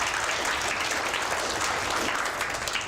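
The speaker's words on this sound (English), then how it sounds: "let's first give our volunteer a big round of applause" Steady, full applause from a museum science-show audience for a volunteer, dense clapping at an even level throughout.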